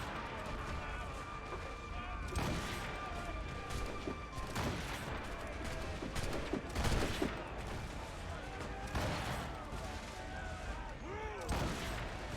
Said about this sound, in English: Good distance shooting here, if I say so myself.